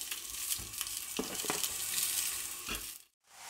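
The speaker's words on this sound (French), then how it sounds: "je dépose donc les merguez et on va les faire cuire" Merguez sausages fry in a spoonful of oil in a pan, giving off a steady, moderately loud sizzle with a few soft knocks as they settle. The hiss cuts out briefly near the end and then resumes, with no speech.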